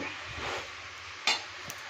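Bottle gourd greens and spices being stirred and sautéed in a pan for a vegetarian chorchori, with a soft steady scraping sizzle and one sharp clink of the spoon against the pan.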